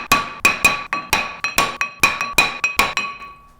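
Repeated hammer blows ring out on a rusty brake rotor on a Kia Soul, about eleven sharp metallic clanks in a steady rhythm, loud and close, each with a bright ringing tail, with no talking.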